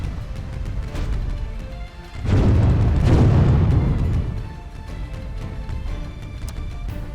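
Cannon fire in the naval strategy game Windward booms out as one heavy blast with a rumbling tail, rising over a steady low game background.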